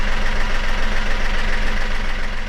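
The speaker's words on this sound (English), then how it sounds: "So the alternator's charging." An engine idles steadily with the alternator charging, a loud, close, continuous rumble with an even rhythmic throb throughout.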